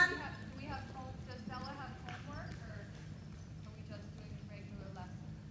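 Horse hooves clip-clop in an even, repeating rhythm as the horse is ridden around a riding arena, with people talking over the footfalls throughout.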